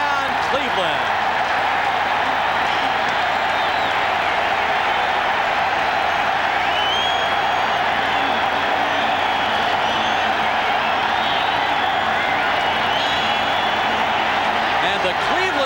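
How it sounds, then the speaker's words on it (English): A Cleveland Stadium football crowd roars after a Cleveland touchdown in a 1992 NFL game against San Diego. The dense, loud roar holds steady for the whole stretch. "the Cleveland Stadium crowd has come to life"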